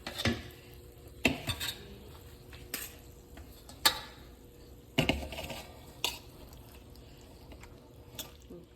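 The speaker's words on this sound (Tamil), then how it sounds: "இப்போ சாதத்தை போட போகிறேன்." Cooked rice for pulihora is tipped into a pan and mixed, faint spoon clinks and scrapes against the metal coming in scattered bursts, with no talking.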